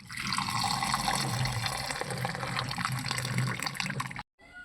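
Cooking water drained from boiled horse gram pours out steadily in a loud, continuous splashing stream, then cuts off abruptly near the end.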